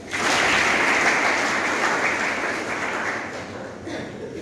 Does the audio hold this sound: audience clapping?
yes